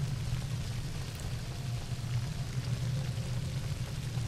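A water shaman in Prince of Persia: Warrior Within sends out a constant stream of water, a steady rushing, pouring hiss that stays even in level the whole time with nothing else over it.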